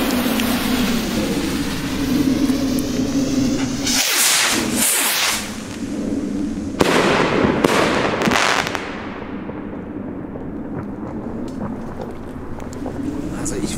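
Argento shell rocket fireworks in 34mm and 38mm calibre go off with several sharp loud bangs and whooshing bursts, followed by a long fading crackle, outdoors with people talking nearby.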